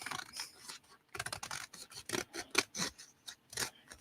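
Scissors trim the fabric on a person puppet in several close, crisp snips, coming in short uneven bursts with brief pauses between cuts.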